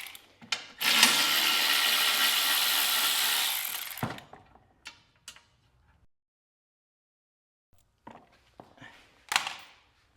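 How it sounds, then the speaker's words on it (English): A socket wrench works a bolt loose on a Hustler Raptor mower deck panel, giving a long steady whirring ratchet burst followed by scattered clicks and clinks, then a brief quiet and a few more metallic taps. "You will need a 7/16 socket to remove this bolt."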